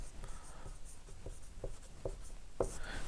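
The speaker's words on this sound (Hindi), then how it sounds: "फिर ऊपर लिख देना है" Chalk writing on a board during a geography lesson on India's rocks, heard as a series of sharp taps and short scratchy strokes at an uneven pace, close and fairly quiet in a room.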